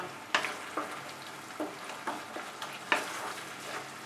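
Poppy seed paste fries in a pan over raised heat while cooking an egg curry, giving a faint, quiet sizzle broken by several soft stirring scrapes at an uneven pace.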